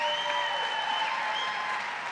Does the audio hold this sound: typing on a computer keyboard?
no